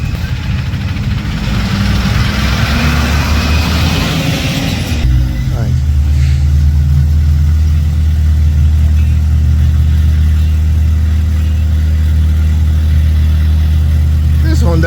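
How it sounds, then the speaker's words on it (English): A loud Honda car engine idles with a deep, steady rumble after a burst of broadband roar that cuts off at once. Someone talks over it nearby. "So this Honda is equally loud."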